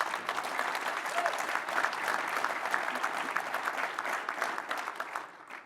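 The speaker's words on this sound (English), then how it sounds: "let's give these ladies a round of applause." Steady audience applause at a local energy summit panel, dense clapping sustained at even loudness for several seconds before tapering off at the end.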